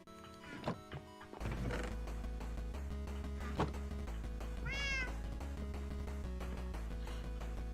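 A pet cat meows in a clear, rising call at home, heard over loud, steady background music with a driving beat; a few thumps and knocks occur earlier.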